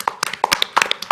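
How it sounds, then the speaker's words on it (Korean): Audience applause welcoming a speaker at a year-end overseas Koreans conference, a handful of sharp, scattered claps spaced irregularly, fairly close and sparse rather than a full crowd ovation. "뜨거운 박수로 모시겠습니다"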